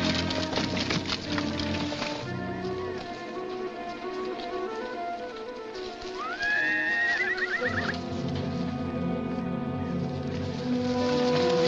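Horses in a 1948 period film, one loud rising whinny in the middle over a dense bed of rain-like noise and clattering movement.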